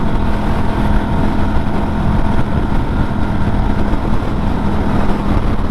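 Norton Commando 961 SP motorcycle cruising in top gear at around 5,000 revs at motorway speed, a loud continuous engine drone buried in heavy wind rush, with no speech.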